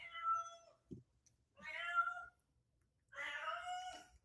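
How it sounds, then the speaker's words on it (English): A domestic cat meows three times close by, each call drawn out and clear, with short quiet gaps between them and no talking over it. "Can you guys hear my cat?"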